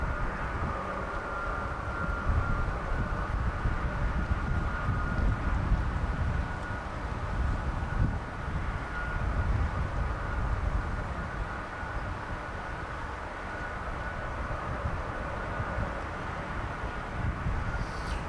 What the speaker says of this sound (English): C-17 is still running